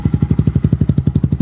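A Husqvarna enduro motorcycle engine cranks and chugs in a rapid, loud, even rhythm of low pulses, close up, with no voices.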